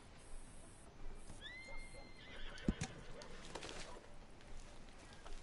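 A horse in Red Dead Redemption 2 gives a brief, clear whinny in the middle, amid faint hoof clip-clops and quiet game ambience, with soft background sounds throughout.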